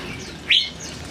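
A white-rumped shama, a murai batu songbird, gives a single short, bright chirp close by, standing out alone against a quiet background.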